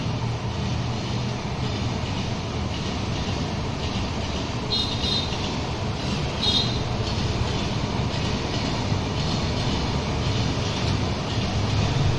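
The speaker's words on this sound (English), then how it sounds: "there's a lot of sound because there's a train railway station nearby my house" A train rumbles steadily past with a continuous low roar and faint rhythmic clatter of wheels on the rails.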